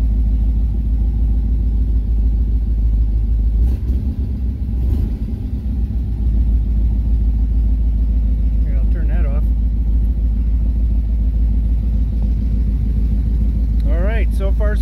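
A 1969 Corvette L-46 with a 4-speed, an all-original garage find, idles steadily after running for about ten minutes, a constant low rumble under a voice.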